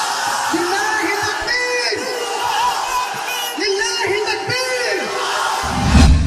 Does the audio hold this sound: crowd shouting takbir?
yes